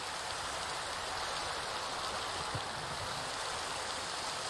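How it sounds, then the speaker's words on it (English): Steady rainfall in an Ultra Hardcore survival video game: a constant, even hiss of falling rain with no pauses, heard alone without any voices. "Oh, now it's raining?"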